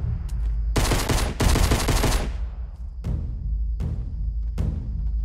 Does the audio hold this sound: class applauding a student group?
no